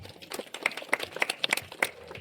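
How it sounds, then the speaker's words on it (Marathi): A small crowd at the Bohada village festival in Pendshet claps in scattered, uneven bursts, with close, sharp hand claps and no talk. "त्यांच्यासाठी एकदा जोरात टाळ्या होत्या"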